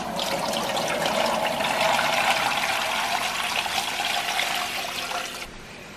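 Water runs from a tap into a pressure canner, a steady rushing, splashing stream that fills the pot for several seconds before cutting off abruptly near the end.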